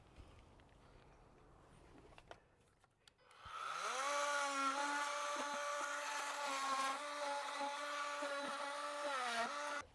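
After some quiet handling, an oscillating multi-tool fitted with a bi-metal blade starts up and cuts steadily into rotten timber on a window frame, a loud, sustained buzzing whine that holds for several seconds and dips briefly near the end.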